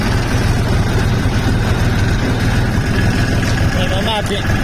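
A DTZ 5244 tractor engine idles with a steady low, pulsing rumble that stays loud and close throughout, while people talk faintly in the background.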